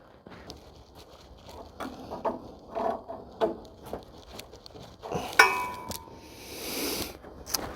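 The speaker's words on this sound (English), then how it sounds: "Let's put a wrench on that." Metallic clinks and ratcheting of a wrench working on the leaking main fuel feed line from the tank of an old Oldsmobile, a series of close, sharp taps and clanks with brief pauses between.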